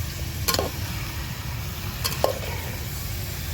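Goat mutton frying with onions in a pan makes a low, continuous sizzle, broken by two brief scraping clatters from stirring.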